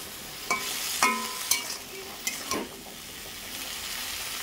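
Cut potato, eggplant and pumpkin stems dropped into hot oil, each batch setting off a loud burst of sizzling that settles into a steady close fry.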